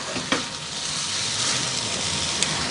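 Coriander and cumin sizzle steadily in hot oil in a Sri Lankan home kitchen, a dense continuous hiss with a couple of sharp pops, close and fairly loud with no talking.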